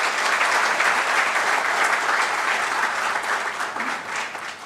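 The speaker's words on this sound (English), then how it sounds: "Let us have a huge round of applause for our honorable guest." Loud, steady applause from an audience at a law college event welcoming a guest, dense clapping that holds throughout with only slight easing near the end.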